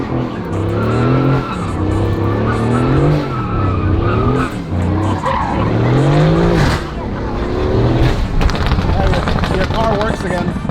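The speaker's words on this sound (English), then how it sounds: "You can't believe I made those tires screech?" Tires of a twin-turbo Ferrari F12 screech loudly and continuously with traction control off, the wailing squeal rising and falling in pitch over engine roar, while people talk and shout over it.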